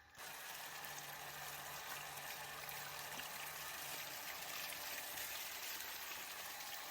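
Water running steadily as guavas are washed outdoors, a continuous, even hiss and trickle with faint mechanical ticking underneath, no voices.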